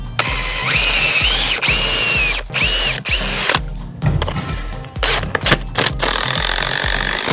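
A power tool drives a bolt into a wooden garden gate post in repeated whirring bursts of about half a second, each separated by short pauses, loud and close.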